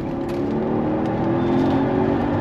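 A 2009 Mercedes-Benz SL 550 V8 under throttle: a steady, loud engine drone that swells slightly as it revs, with no one talking.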